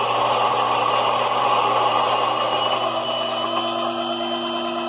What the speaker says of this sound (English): Sounds like the grinder might be out of beans.